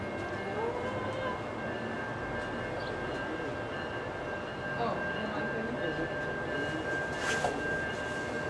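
CSX and NS freight trains passing at Dalton, Georgia, a low continuous rail rumble with faint wheel squeal tones and brief clanks, fairly distant.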